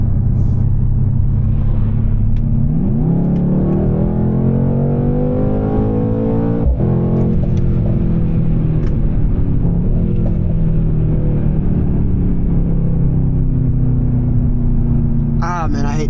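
Mercedes C63s accelerating hard from inside the car, the engine note climbing steadily through rising revs with a shift partway and a loud, continuous roar throughout.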